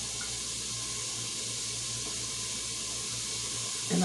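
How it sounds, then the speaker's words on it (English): Liquid pours steadily into a bowl in a home kitchen while making Instant Pot yellow rice and chicken, a continuous close watery rush heard alone, ending in a brief louder splash or clink. "Alright, so we're gonna go ahead and pour this into the bowl."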